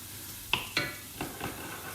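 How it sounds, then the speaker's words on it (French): Curry sauce warming in a large dish, with a faint steady simmer and four soft scraping clinks of a utensil against the dish, spaced unevenly and fairly close. "Alors la sauce va chauffer, c'est bien"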